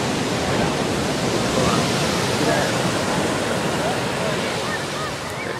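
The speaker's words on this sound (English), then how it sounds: "I'm at the beach at night at the Santa Monica Pier." Ocean waves break on the beach at night beside the Santa Monica Pier, a steady, loud wash of surf that fills the whole stretch without pause.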